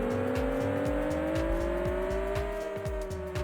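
Race cars in Indy Car Racing 2 roar steadily with a rising, droning engine pitch and rapid rhythmic pulses, loud and continuous, with no talking.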